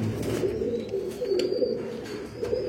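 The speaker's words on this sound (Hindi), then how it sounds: "नीली आंख के कबूतर हैं" A blue-eyed pigeon coos softly in a loft, a few low, soft murmuring calls repeating over a quiet background.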